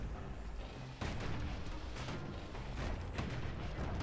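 Guns of a security skiff firing in the Bastion video game, a dense run of rapid booming shots over a continuous low rumble, steady and fairly distant.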